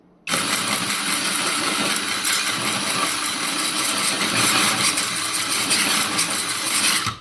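Cheap electric sharpener for drill bits and knives, bought for 200 hryvnia from AliExpress, whirring loudly as it switches on abruptly and runs at a steady speed, with a buzzy, rattling motor whine throughout.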